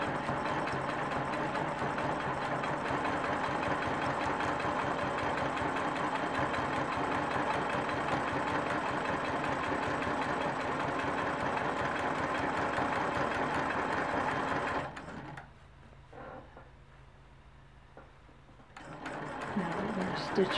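A sewing machine runs steadily for about fifteen seconds while stitching around a diamond shape in a quilt row, a dense continuous mechanical whir, then stops abruptly into near silence before faint activity resumes.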